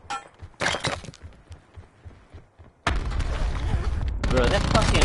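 A grenade blast in Call of Duty erupts loud and sudden partway through, followed by a lingering roar of debris and gunfire, with sharp crackles and brief speech before it.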